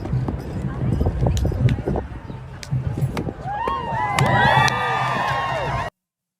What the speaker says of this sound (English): Don't cheer that. There's nothing to cheer.